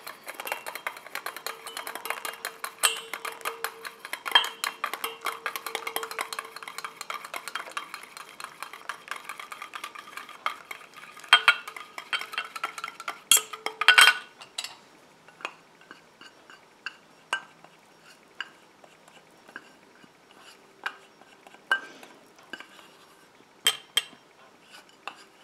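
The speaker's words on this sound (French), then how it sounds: "Et je rajoute ma phase aqueuse en mélangeant gentiment." A utensil stirs the aqueous phase into an oat hand cream inside a container, with soft continuous scraping and frequent small clinks against the sides, busier at first and then sparser, sharper taps toward the end.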